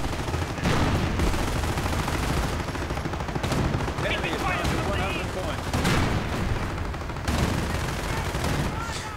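Rapid machine gun bursts from a Panzer IV's mounted MG in a World War II strategy video game, crackling continuously amid dense battle noise and other gunfire, with a voice talking over it.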